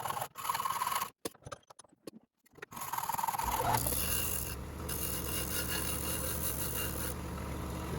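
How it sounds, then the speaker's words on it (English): Carriage bolts being cut to shorten them for an easel build, a harsh continuous grinding or sawing rasp that starts after a few seconds of scattered handling noises and holds steady to the end. "I'm going to go ahead and cut them and shorten them"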